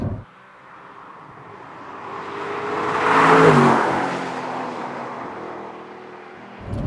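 An original Audi R8 V8 press car running on the move. Muffled engine hum heard from inside the cabin swells to a louder, rising rev near the middle, then eases back to a steady drone.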